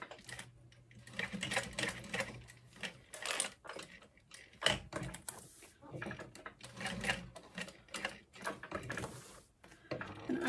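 A sewing machine runs a short box stitch on a wristlet clutch, with bursts of rapid mechanical clatter broken by pauses and small handling knocks, close and moderately loud, while a voice talks quietly now and then.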